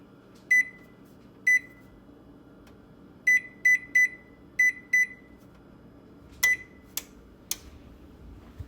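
A microwave-style oven control panel beeps sharply while being set to preheat for baking cookie cups, single and quick double beeps in an irregular pattern, then a few louder clicks near the end, with no talk.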